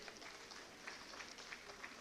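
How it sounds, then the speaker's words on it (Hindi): Audience applause at an official language award ceremony, a steady, distant-sounding spread of clapping with a few sharper individual claps, fairly faint throughout. "एक बार जोरदार तालियां"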